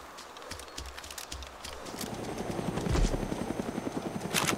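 A helicopter arrives for evacuation in the video game Arma 2 DayZ Mod, its rotor chop growing steadily louder and closer after a few soft thumps, ending in a rising whine.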